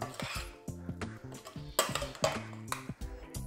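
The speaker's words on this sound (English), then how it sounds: "Give it a nice mix up." Potato and chickpea curry being stirred in a pot, a busy run of close spoon clinks and scrapes against the metal with an irregular rhythm and no speech.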